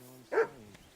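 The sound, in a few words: dog barking in the video game Kingdom Come Deliverance II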